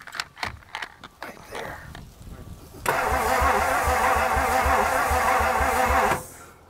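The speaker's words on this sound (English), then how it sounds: "we'll just spin it with the starter and see the difference" The starter cranks the engine of an old Edsel that has sat abandoned for over forty years. A few clanks and voices come first, then a loud, rhythmic, whirring chug runs steadily for about three seconds before cutting off.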